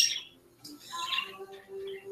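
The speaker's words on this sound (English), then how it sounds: "Birds are horrible creatures too." Pet birds squawk and chirp indoors during a live talk show, several harsh calls and shrill tweets close by with a thin sustained whistle-like tone near the end.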